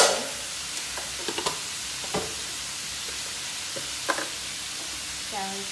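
Eel being stir-fried with holy basil in a pan, giving a soft steady sizzle with a few sharp clinks and scrapes of stirring scattered through, fairly quiet and with no talking.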